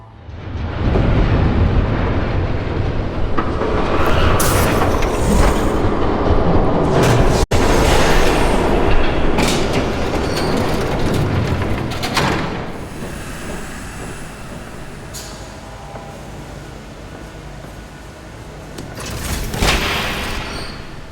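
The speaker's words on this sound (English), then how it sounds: "There's a train coming. Take cover." A train rumbles loudly past in the video game Telltale Batman, a sustained heavy roar with clattering wheels and squeals that swells, then slowly fades toward the end, with no voices over it.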